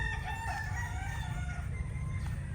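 Gamecocks on a farm crow several times over steady background noise, with overlapping calls rising and falling in a long drawn-out pattern at moderate distance.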